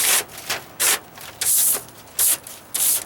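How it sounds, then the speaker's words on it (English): A small whisk broom brushes snow off outdoor furniture in five or six quick, rhythmic swishing strokes, close and fairly loud, with short pauses between them. "I'm going to push this off with this. Just get it low enough. Just my little whisk broom."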